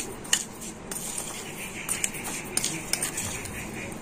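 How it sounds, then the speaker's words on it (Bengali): A spoon stirring tea leaves and sugar together in a metal bowl, giving a steady run of light scraping and clinking taps, close and fairly quiet. "আর এখন আমি এই চা পাতা চিনিটা কিন্তু খুব ভালো করে মিশিয়ে নেব"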